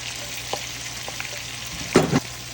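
Chili peppers and artificial crab meat drop into a hot pan and sizzle, with light stirring clatter and a louder burst of scraping and frying near the end; no one speaks.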